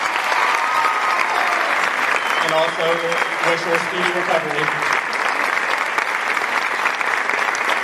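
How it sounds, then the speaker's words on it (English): Sustained applause from an audience at a 2022 university athletic awards ceremony, steady clapping throughout while someone speaks over it partway through. "let's give her a round of applause for her All-American honors"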